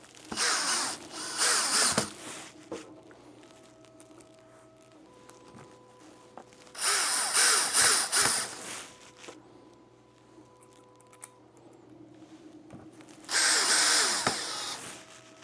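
A power drill drives screws into 3D-printed parts of a hobby paint booth in three loud, whirring bursts of about two seconds each, separated by quieter handling clicks and rattles.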